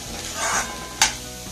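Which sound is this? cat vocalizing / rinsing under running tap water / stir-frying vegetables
stir-frying vegetables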